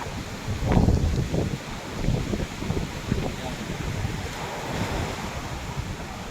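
Rough surf at Boracay beach, waves washing in with a continuous broadband roar and one stronger surge early on, buffeted by wind noise on the microphone, with a voice speaking over it.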